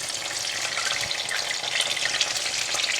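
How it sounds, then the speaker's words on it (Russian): Eggplant sizzles and crackles in a hot pan, a steady close frying hiss with occasional small pops. "Друзья, можно эти баклажаны и жарить, и запекать в духовке."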